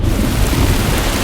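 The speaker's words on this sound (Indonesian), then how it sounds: "Badai tropis menerjang pulau dan meluluh lantakan tempat tinggal mereka." A tropical storm from a film: heavy rain pours steadily while thunder rumbles deep and continuous, loud and close, with no talk over it.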